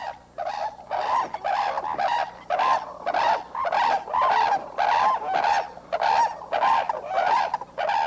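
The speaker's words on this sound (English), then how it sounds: "Trumpeting, tossing sprays of leaves, the Australian cranes dance around the year as part of courtship at breeding time" Australian cranes trumpeting during a courtship dance at breeding time, a loud repeated series of rhythmic bugling calls, about a dozen bursts in steady succession, close and clear with no talk.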